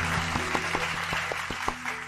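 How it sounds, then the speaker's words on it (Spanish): Applause from a crowd rolls steadily, with a few sharper individual claps standing out over a low background hum. "Ahí hay un aplauso."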